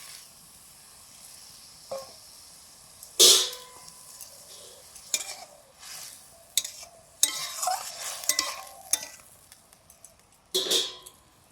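Hilsa fish coated in salt, turmeric, chili powder and mustard oil goes into a hot pan, giving sharp bursts of sizzling and spattering over a low, steady frying hiss, with louder flare-ups every few seconds.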